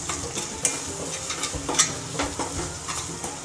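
Spices stirred in a hot pan for a Gujarati fenugreek (methi) curry, with coriander-cumin powder just added, give steady close sizzling, scraping and faint clinks of a spoon against the pan.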